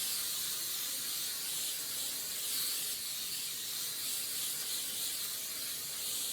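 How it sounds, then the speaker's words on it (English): A can of cooking spray hisses steadily onto a baking pan for pizza, one continuous close, bright spray of several seconds with no talking. "So I'm going to give this a quick spray."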